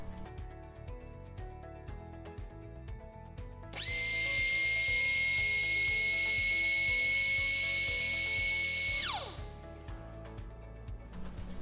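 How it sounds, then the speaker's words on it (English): An air-driven VSpin milling spindle spins up to high speed with a piercing, steady whine for about five seconds before sliding down in pitch as it stops, over a constant rhythmic machine hum. "we can turn on the air supply to the spindle."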